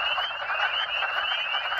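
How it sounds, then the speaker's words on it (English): Wood frogs call in early spring, a loud, steady chorus of many overlapping croaking voices blending into a continuous clucking din, heard alone without any talk. "when you hear all these frogs calling"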